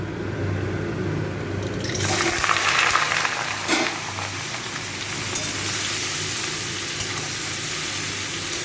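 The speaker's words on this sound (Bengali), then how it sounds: "আমি আবার এর মধ্যে লাউ শাকটা দিয়ে দেবো।" Bottle gourd greens dropped into a pan of oil tempered with black cumin seeds and dried chilli, giving a sudden loud hiss that settles into steady close frying, with no voice heard.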